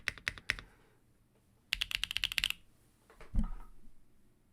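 Bursts of clacky typing on a MODE Sonnet mechanical keyboard with Obscura switches, close and crisp, in three quick flurries separated by short pauses.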